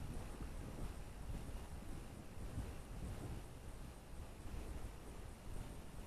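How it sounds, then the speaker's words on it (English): Gusty outdoor wind on a flying field, a steady low buffeting roar pressing on the microphone for the whole stretch, with no voices. "Wind out this morning is 4 to 8, so it can be a bit of a handful."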